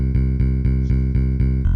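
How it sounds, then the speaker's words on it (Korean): A synthesized bass line plays alone in music production software, a steady repeating pattern of loud, even low notes pulsing about every quarter second with a slight change at the end. "베이스만 한번 들어보세요, 여러분. 이런 소리가 납니다."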